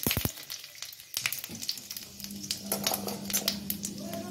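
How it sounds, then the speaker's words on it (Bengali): Dried red chillies and panch phoron hit hot oil in a pan for a tadka with pumpkin, giving a dense, steady sizzle with sharp crackling pops, louder after a clatter near the start. "তেল গরম হয়ে গেছে, এখন আমি ফোড়ন দিয়ে দিচ্ছি"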